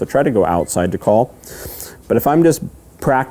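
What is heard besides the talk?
No everyday noises stand out.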